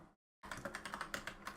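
Rapid keystrokes clatter on a computer keyboard after a short silent gap, a quick, fairly even run of close, crisp taps.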